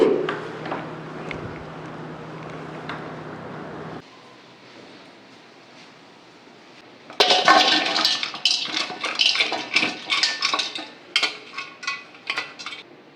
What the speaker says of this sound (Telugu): వేరే గిన్నెలోకి తీసుకోవాల్సిందే ఓకే గిన్నె మారుద్దాంలేండి